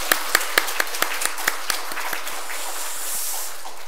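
Congregation applause at a Korean church worship service, a run of distinct rhythmic claps at the start that blend into a softer, fading patter of clapping.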